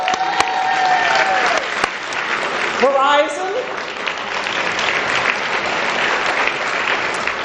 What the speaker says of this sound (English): Let's give a round of hearty applause for Northfield Bank